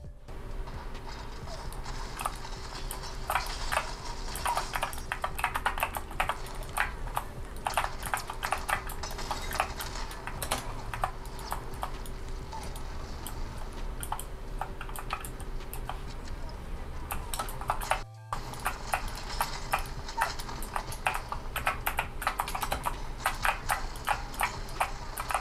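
Rapid clicky keystrokes on a custom-built gaming keyboard, close and continuous in quick irregular bursts over a low steady hum, with a brief break near the end.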